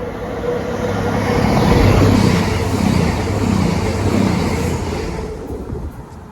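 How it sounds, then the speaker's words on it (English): A cross-country passenger service from Penzance to Edinburgh via Leeds passes on a diverted main line, a loud continuous rumble with rhythmic clattering of wheels over rail joints that fades slightly toward the end. "Passing through now is a cross-country service to Edinburgh via Leeds from Penzance"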